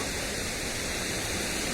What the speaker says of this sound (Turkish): tabi şelaleden akan hızlı sert akan suyu